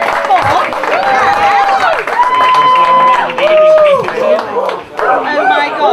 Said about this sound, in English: Send me a big round of applause for the